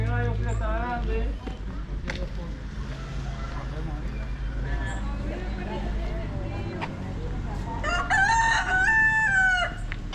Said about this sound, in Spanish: Este gallo que está grande.